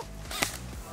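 A single sharp crack of a gunshot, brief and fairly close, standing out against a low background hum.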